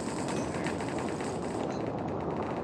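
Rapid automatic gunfire from an online cops-and-robbers shooter video game crackles nonstop, dense and loud, filling the whole stretch with no voices over it.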